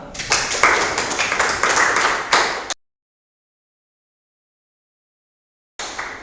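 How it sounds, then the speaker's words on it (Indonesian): Students clap together in a classroom, a brisk burst of close, fairly loud hand claps that stops abruptly, followed by a gap of silence and a brief return of clapping. "Tepuk tangan buat kita semua."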